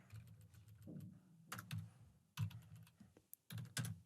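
Quiet bursts of computer keyboard typing come in short clusters of soft key clicks separated by brief pauses, with no voice over them.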